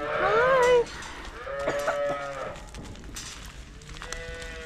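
Cattle mooing in a calf shed on a farm, several drawn-out bellowing calls one after another, the first loudest and closest, later calls softer, with faint background noise and no talk.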